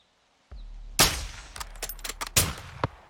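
Several sharp sniper rifle shots in Call of Duty: Modern Warfare 2, two loud blasts with a few smaller cracks between them, over a low steady background hum.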